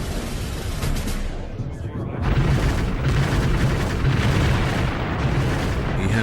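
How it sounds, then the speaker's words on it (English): Archival recording of the Soviet artillery bombardment opening the assault on Berlin: a loud, unbroken rumble of massed guns and blasts, booming densely and swelling heavier partway through. "3 days after Roosevelt's death, Zhukov began his assault on Berlin."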